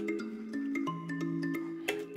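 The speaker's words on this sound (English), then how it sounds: "This is a Omnisphere patch once again." An Omnisphere kalimba patch arpeggiating chords with a swung rhythm, bright plucked tones ringing out one after another in an uneven, bouncing pattern, clear and close with no voice over it.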